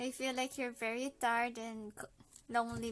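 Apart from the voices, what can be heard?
No distinct noise like a dog, phone or traffic.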